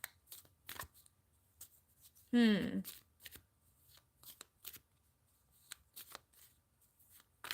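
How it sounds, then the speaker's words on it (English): Tarot cards being shuffled and pulled from the deck, one close ruffling riffle followed by light taps and card handling, heard with a person talking. "let me pull some more cards."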